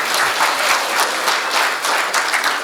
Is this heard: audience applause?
yes